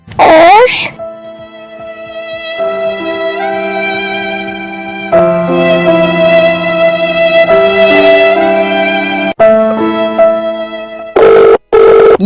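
A telephone rings in a Bengali cartoon, its loud, sustained, tonal electronic ringing in several long stretches, cut off by brief louder bursts toward the end.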